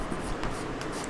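Chalk or marker writes an example on a classroom board, a close, steady scratching and scraping across a short stretch with no talk over it.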